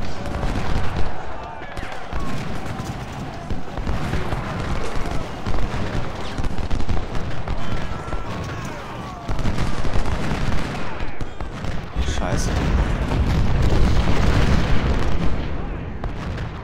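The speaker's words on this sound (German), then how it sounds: "Alles rein, was wir haben. Kanonen. Feuer." Cannon artillery fire in a Civil War battle game, Ultimate General: Civil War, with dense, continuous booming and crackling volleys of guns layered under battle noise, loud throughout with heavier low rumbles near the end.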